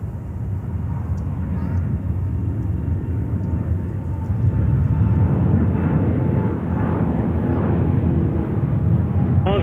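An airliner bound for Athens takes off from JFK in New York with a steady, heavy engine roar that swells slightly midway. Someone speaks briefly at the start.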